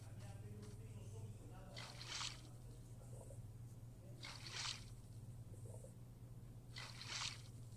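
A Triceratops drinks from a lake in Mesozoic Dawn. Three soft, evenly spaced lapping splashes sit faintly over a steady low background hum.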